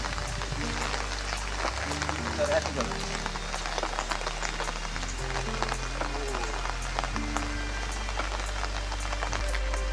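Rain falling on a trip to Athugala, a dense steady patter of drops on surfaces filling the whole stretch, close and continuous, with low droning tones and faint voices underneath.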